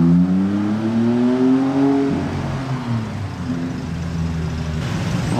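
An Audi RS6 Performance revving close by in Monaco, a loud deep engine note rising in pitch and then falling away, followed by a steady rumbling idle with lower, rougher harmonics.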